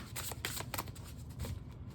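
Quiet, rapid riffling of a card deck being shuffled, a quick flutter of snapping cards up close.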